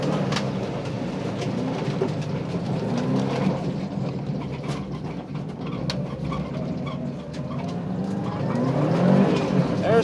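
A Subaru rally car drives fast down a straightaway, its engine a continuous muffled rumble with wind and road noise heard from inside, swelling slightly toward the end; no talk.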